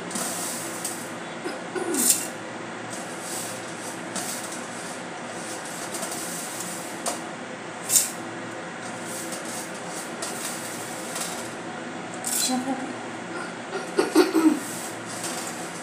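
Electric kitchen grinder steadily whirring as dal, cashews, almonds and poha are ground into fine powder, a continuous close hissing roar with small bumps and rattles, no talk.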